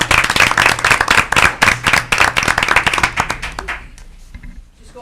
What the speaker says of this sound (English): we just want to clap for you